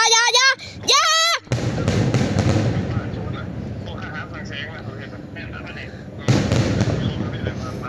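Fireworks crackle and boom in a dense outdoor barrage, with a voice singing or shouting briefly at the start and again near the end over the sustained rumble.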